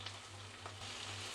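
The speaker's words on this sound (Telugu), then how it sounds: "ఇప్పుడు ఇందులోకి మనం కట్ చేసుకున్న వంకాయ ముక్కలన్నీ వేసేసుకోవాలి" Brinjal pieces sizzling as they drop into hot tempering oil, a faint, steady frying hiss with a low hum beneath, no talking.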